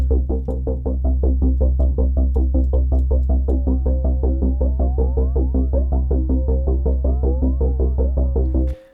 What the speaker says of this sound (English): what I don't like is when a flanger does this.